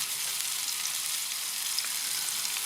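Smash burger patties fry on a flat griddle in a dense, even, close sizzle that holds steady throughout with faint pops, no voices over it.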